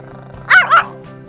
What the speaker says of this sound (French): Son chien est avec lui.